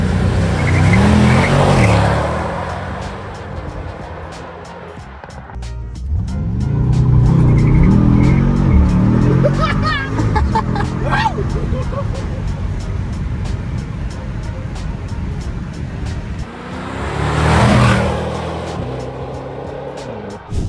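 A BMW M8 convertible with its engine revving hard and accelerating, loud and close, with tire noise and repeated surges of engine roar; a voice speaks briefly over it.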